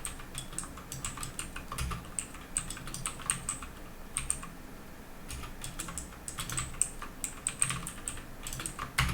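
Typing on a computer keyboard makes rapid, irregular clusters of crisp clicks that run continuously and close by, with brief pauses between bursts.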